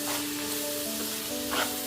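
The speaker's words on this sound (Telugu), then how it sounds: "ఒకసారి అన్నీ కలిపి మిక్స్ చేసేసుకొని మగ్గనిచ్చేద్దాము." Shredded cabbage being stirred with salt in a hot pan, a continuous close sizzle and fry with scraping stir noises, no talking.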